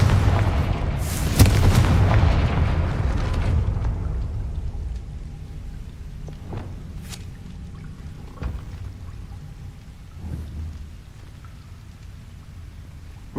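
The Confringo explosive spell in Hogwarts Legacy goes off with a loud, rumbling blast that crackles and decays over a few seconds, followed by sharper, quieter pops and impacts spaced through the rest of the clip.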